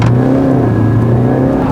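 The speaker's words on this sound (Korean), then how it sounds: "가속을 한번 해보겠습니다." A BMW 320d xDrive diesel engine drones loudly and steadily up close, its pitch holding then easing slightly as the car accelerates, with no talking.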